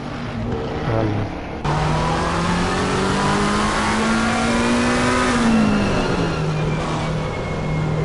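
Onboard a McLaren race car lapping Kyalami in a sim racing game, the engine loud and close as revs climb through a long pull, drop at a shift, then settle again.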